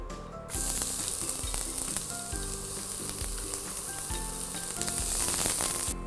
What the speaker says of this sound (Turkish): Şöyle biraz yağ döküyorum ve kıymayı kavuracağım. Hemen soğan atayım önden.